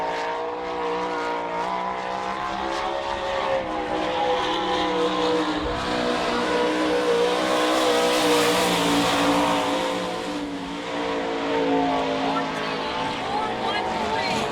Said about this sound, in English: Gary McCann out lighting up the clock now at Newcastle in the 18M, the McDonald's sponsored car.